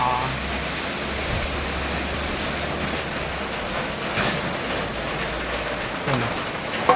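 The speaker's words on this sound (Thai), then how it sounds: "ฝนตกแล้ว" Rain falling outdoors near a home kitchen where a pork-leg soup is being cooked, a steady broad hiss with a few louder knocks and drips, close and continuous throughout.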